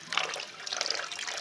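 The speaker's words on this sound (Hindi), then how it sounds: "2-3 पानी से मैं अच्छी तरह से चावलों को वॉश करके ले आई हूँ" Rice grains being washed in water in a home kitchen, a continuous wet swishing and splashing with bright trickling, close and fairly soft, with no talk.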